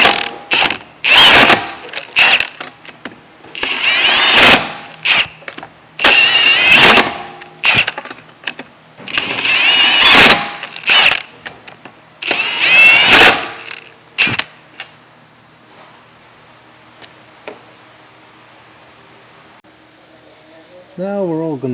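An impact wrench drives lug nuts onto a 2015 Hyundai Genesis wheel during a brake pad and rotor job, firing about seven loud, close, rattling hammer bursts separated by short pauses, then falling to near silence.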